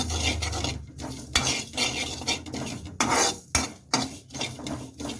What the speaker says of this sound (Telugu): జీలకర్ర ధనియాలు నువ్వులు వేయించుకోవాలి